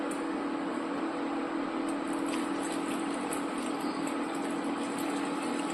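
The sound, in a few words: pouring meat-boiling water into a pot for chicken soup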